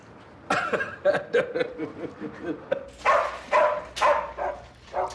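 Dogs bark and yip in a played advertisement, a burst of several sharp barks followed by a louder run of barking, heard through a speaker in a conference hall.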